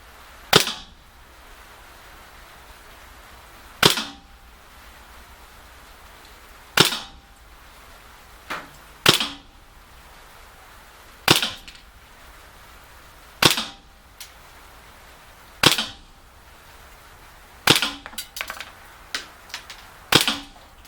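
Shots from airsoft blowback pistols, a KWC M1911 Tac A1 and a GSG 92, fired singly: about a dozen sharp, loud cracks at irregular intervals several seconds apart, with a few quicker shots bunched together near the end.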